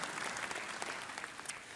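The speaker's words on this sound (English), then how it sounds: "I think that was the singles that were applauding then." Faint, distant applause from a conference audience, a steady patter of many hands clapping throughout.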